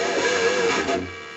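Electric guitar with poor pickups and setup playing a failed pinched harmonic: one buzzy, distorted amplified note with a thin, scratchy overtone sustaining about a second before cutting off abruptly, heard alone.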